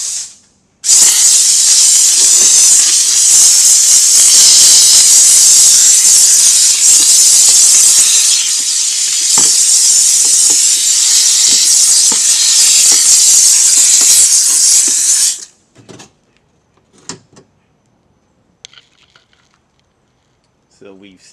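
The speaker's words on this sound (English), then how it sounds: "So we've steamed it" A steam cleaner hisses loudly and continuously for about fifteen seconds while it treats a moldy car seat in a van, then cuts off, leaving a few faint clicks and handling noises.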